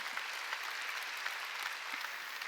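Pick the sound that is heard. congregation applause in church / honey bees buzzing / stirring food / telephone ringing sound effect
congregation applause in church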